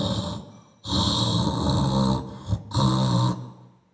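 A person imitates snoring with the voice, giving two long, loud, rasping snore sounds separated by a brief break, close up and with no other talk.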